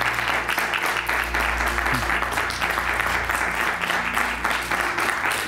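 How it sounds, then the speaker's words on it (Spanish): Loud, close applause from a live audience at a cycling-themed family event, a thick continuous roar of clapping under a low steady hum, lasting several seconds. "Pues venga, un aplauso muy grande para Raquel Trahit, Jaime Vicioso y Manuela"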